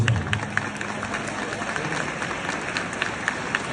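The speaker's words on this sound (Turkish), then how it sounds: "kocaman bir alkış" Concert crowd breaks into a big round of applause for a guest introduced from the stage, a dense, steady wash of many hands clapping that stays loud and continuous throughout, with a few sharper claps and crowd noise mixed in.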